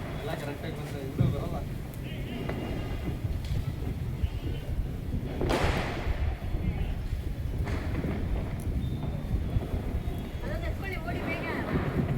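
Strong gusting wind buffets the microphone outdoors during a Deepavali family celebration at home, a continuous low roar with rushes and flutters, while people talk over it.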